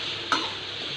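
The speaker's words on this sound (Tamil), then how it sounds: "தண்ணி வந்து படபடான்னு போகிற அளவுக்கு நல்ல லேசாக பொரிச்சு எடுத்துக்கலாம்." Chicken pieces rinsed with turmeric frying in plain oil, giving a steady broadband hiss with a brief stirring clatter near the start, close and without talk.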